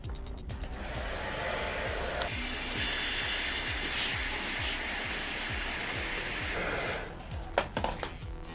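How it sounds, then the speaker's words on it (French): A hair dryer blows steadily as it heats flexible LED tubes to soften them for bending, a continuous loud whooshing hiss with rhythmic clicking underneath, starting and stopping near the end. "Mon sèche-cheveux."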